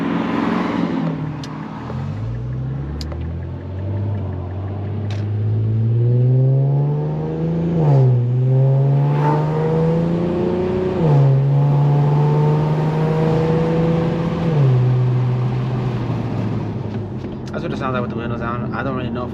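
An Infiniti Q50 Red Sport 400 with a newly fitted loud aftermarket exhaust is driven with the windows down. Its raspy engine note climbs and drops repeatedly through gear changes, loud and close.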